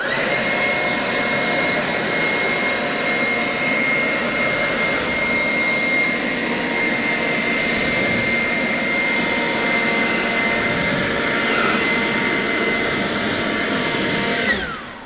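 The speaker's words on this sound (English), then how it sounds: "So when it comes to drying off the vehicle, forced air" A forced-air blower roars continuously and loudly at close range as it dries off a car, a steady high whooshing rush that holds for about fifteen seconds before cutting off.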